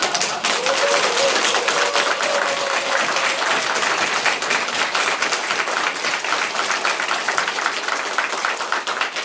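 Strong audience applause at a temple gathering after a dharma talk, loud continuous clapping from many people that stays full and even, with a brief faint tone near the start.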